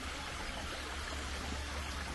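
Clear water runs steadily from the 18th-century Fuente de la Florida, a stone fountain in Teo, Galicia, making a dense, continuous close-up rush and trickle with no voices.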